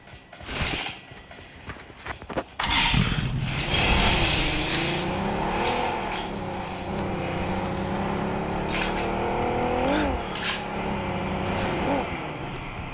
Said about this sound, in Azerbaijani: Mənim maşın, idarə elədiyim maşına bu.